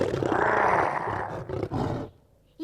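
A cartoon lion lets out one long, loud, rumbling roar that holds for about two seconds before cutting off abruptly into near silence.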